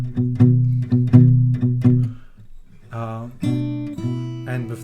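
Acoustic guitar picked in a bouncy shuffle rhythm, steady repeated low bass notes with accented strums, followed by a few ringing chords, close and clear with no talking.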